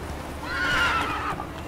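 A horse in The Witcher 3 video game gives a clear, fairly loud whinny lasting about a second, rising and wavering, over faint background game ambience.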